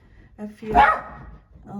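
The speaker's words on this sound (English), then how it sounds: "that's just my dog" A dog barks once, nearby and fairly loud, over someone talking in a room.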